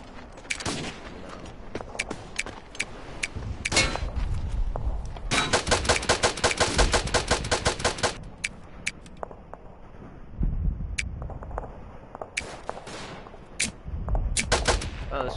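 Machine gun fire from a Madsen MG in the WWI video game Verdun comes in rapid bursts. A long sustained volley sits in the middle, with scattered single gunshots and shorter bursts around it.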